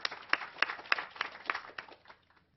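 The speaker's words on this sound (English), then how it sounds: "So everyone give yourself a round of applause for being here." Brief scattered applause from a small audience of parents and educators at a talk, sharp claps fading out over about two seconds.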